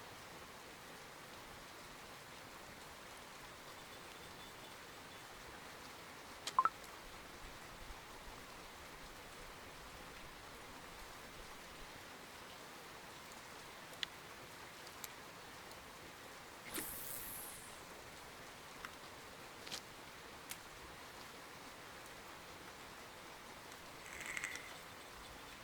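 Steady rain falls over a lake in the fishing video game Russian Fishing 4, a soft, even hiss of drizzle with a few faint clicks and drips scattered through it.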